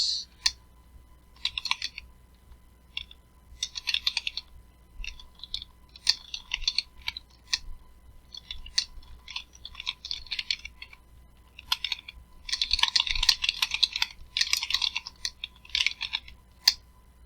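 Quick bursts of keystrokes on a computer keyboard, typed in short clusters with brief pauses between them and a denser run near the end, close and clear with no talking.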